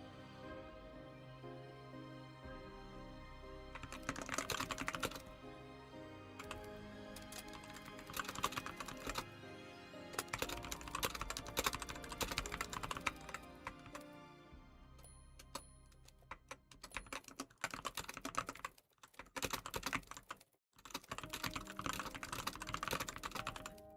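Steady typing on a computer keyboard at a writing session, with clustered bursts of key clicks and brief pauses, fairly close and continuous for the whole stretch with no talk.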